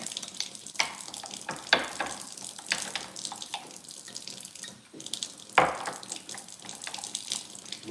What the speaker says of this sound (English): I'm actually adding a little water to it to get it a little softer.